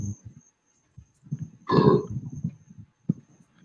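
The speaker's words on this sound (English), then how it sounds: "He's off screen fucking belching from across the room and you can hear him." A man belches off-mic from across a room: one loud, rough burst lasting under half a second, with faint talk and low murmuring around it.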